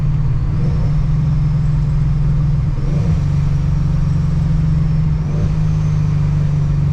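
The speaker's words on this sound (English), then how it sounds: "This exhaust is pretty quiet, but it does open up a bit at higher RPMs" A loud, steady exhaust of a 700 wheel-horsepower Ford Mustang drones continuously, the engine note swelling slightly as it accelerates and opens up at higher RPM.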